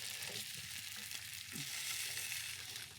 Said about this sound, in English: Use the bones to get comfortable with the sear, turning it around, searing each end, literally 360 all the way around.